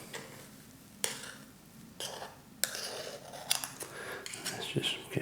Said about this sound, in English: Now I'm going to scoop this up.